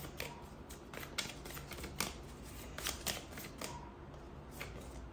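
Playing cards shuffled and drawn in a steady run of crisp riffles and snaps, close and clear.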